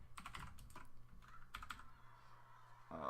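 Quick, quiet clatter of keys typed on a computer keyboard, a short burst of keystrokes with no talk.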